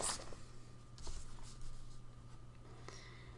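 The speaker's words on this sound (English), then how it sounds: "So let's write those down." Pen or marker scratching across paper or a whiteboard as numbers are jotted down, a quiet steady scribble with a few firmer strokes, close and faint over low room hum.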